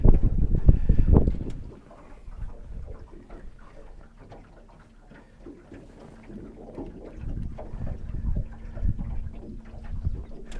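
Wind blows across a lake during crankbait fishing from a boat, a steady low rumble of gusts buffeting the microphone, loud at first, then easing to a quieter drone before building again, with no talk.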